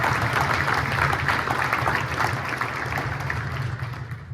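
A crowd at a Florida State football press conference announcing the 2024 Ireland game claps steadily, a dense close wash of applause that tapers off at the end.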